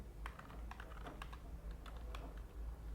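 Steady, quiet clicking of a computer keyboard as someone types code, light irregular keystrokes over a low hum with no talking.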